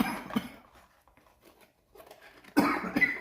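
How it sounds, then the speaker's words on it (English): A man coughs a couple of times, short rough bursts close by separated by near silence. "I get the same cough every year"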